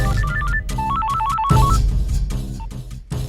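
A telephone rings with a bright electronic melodic ringtone, repeating short tune phrases loudly and close, over a low background.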